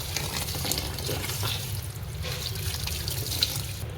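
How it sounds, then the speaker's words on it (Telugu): Water runs and splashes steadily from a tap into a vessel of ragi grains being washed, a close, continuous gushing with small sloshing variations throughout. "ఇదిగండి నీళ్ళు పోస్తే అంతా దీనిలో ఉన్న పొట్టంతా చూడండి ఎలా వస్తుంది"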